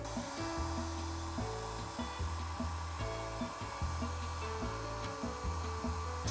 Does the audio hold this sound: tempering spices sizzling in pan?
no